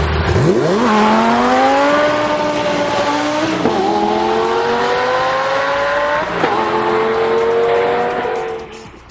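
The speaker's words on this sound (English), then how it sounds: "put the car in gear, switch off the stability control, engage the sport mode, release any pressure on either pedal, and then stomp on the gas" A 2008 Lamborghini Gallardo Superleggera, all-wheel drive, launches with stability control off and sport mode on, its loud engine revving up in rising surges with sharp gear-shift breaks, close and alone before fading at the end.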